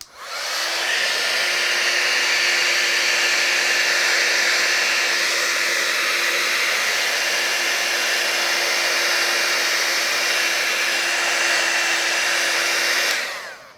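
A handheld dryer blows hot air onto ink on a steampunk rusted-background craft card, a loud steady whooshing roar with a constant hum that runs unbroken for about thirteen seconds before cutting off.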